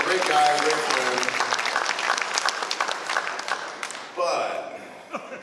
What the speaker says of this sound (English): I gotta give him a good round of applause